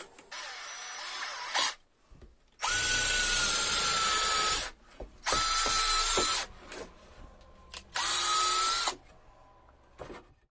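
A cordless drill spins an ordinary nail to bore a hole, whirring loudly and close in three sustained runs separated by short pauses, after a brief first burst.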